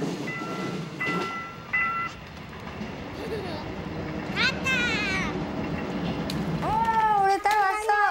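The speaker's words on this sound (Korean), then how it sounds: "3시 30분 강릉발 열차가 꼬리를 길게 내빼면" A train departing Gangneung rolls past at a rural rail line, with rumbling carriage noise, a couple of whistle or horn tones and squealing wheel sounds near the end, while people talk over it.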